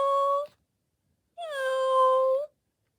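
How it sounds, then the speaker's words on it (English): A Joy for All robotic pet cat gives two separate meows, a short one and then a longer, drawn-out one after a pause, both close and clear against silence. "So that's one meow"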